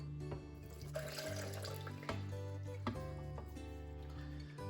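Two cups of water pour steadily into a blender for a mango orange punch, a continuous close gurgling stream under a low hum, with no talking.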